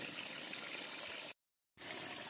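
Water rushes steadily into a pipe as it fills, a continuous hissing flow that briefly cuts out and then resumes, with no talking.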